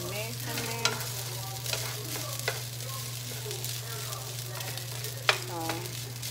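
Garlic rice being stirred and fried in a pan, with a steady close sizzle and scattered scraping stir strokes throughout, no talking.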